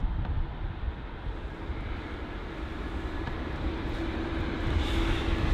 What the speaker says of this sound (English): the LOTS Polish Airlines 737 MAX 8 featuring the Polish Independence livery on departure at runway 27 left at London Heathrow